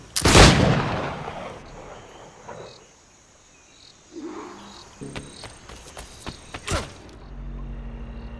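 Gunfire in the pirate video game Assassin's Creed Black Flag: a loud blast opens, then scattered sharp reports and crackling shots follow over ambient background, with a second strong bang near the end.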